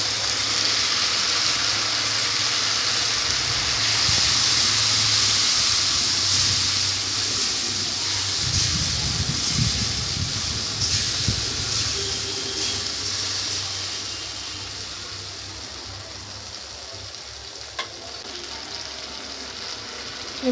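Tomato paste hits a hot frying pan with vegetables and sizzles steadily, a loud continuous frying hiss that softens gradually over about twenty seconds as it cooks down, no talking.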